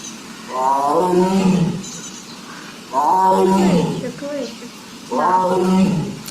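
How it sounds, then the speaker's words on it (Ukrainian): A zoo tiger roars in three long, loud, deep calls with steady gaps between them. Each call has a rich, harmonic, moaning quality and stands close and clear against quiet surroundings. "Це ж тигр нас. Тигр кличе нашу,"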